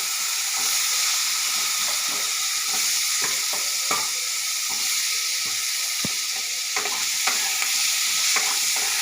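Diced potatoes fry in hot oil with turmeric, a steady bright sizzle close by, punctuated by scraping clicks of a spatula stirring and tossing them in the pan.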